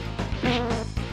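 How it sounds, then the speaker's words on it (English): Video-game bees give off a steady, close insect buzz, loud and continuous with a brief dip midway, with no other sound over it. "I'm punching bees. Those bees sting."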